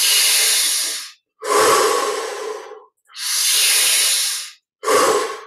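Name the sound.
slow deep breathing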